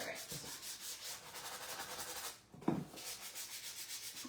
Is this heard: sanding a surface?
yes